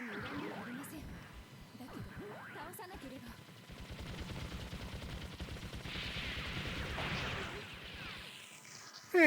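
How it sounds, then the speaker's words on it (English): Jesta mobile suit firing its beam rifle in SD Gundam G Generation Genesis, heard as a rapid run of crackling energy shots and whooshes over in-game sound effects, moderately loud and fairly close. "Beam rifle. We'll use that."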